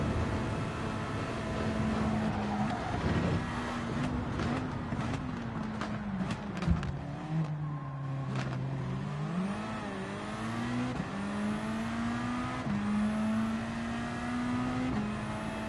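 Race car engine in Gran Turismo 7 pulling hard in sixth gear, its pitch climbing steadily with brief drops at shifts and a few clunks, loud and close throughout.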